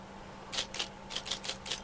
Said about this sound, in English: Oh, I'm using a typewriter.